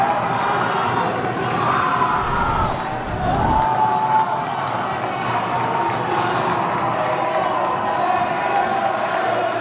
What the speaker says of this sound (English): And the crowd to my left is loving it